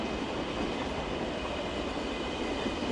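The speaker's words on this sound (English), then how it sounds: "Oh, here's a RailJet train." A RailJet train rolls into München Hbf, a low steady rumble of wheels on track with faint rail hiss, moderately distant and continuous, no voices.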